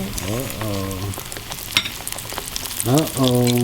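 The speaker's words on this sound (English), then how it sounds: "we can just put it in our boiling grease." Grease crackles and sizzles steadily as green tomatoes, zucchini and yellow squash fry, with short spoken remarks breaking in over the hiss.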